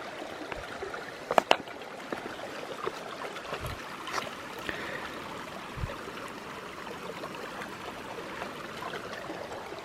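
Water flowing from a stream and waterfall beside the Bishop Pass hiking trail toward Kings Canyon National Park, a steady close rushing wash with a few brief knocks and clicks, no talking.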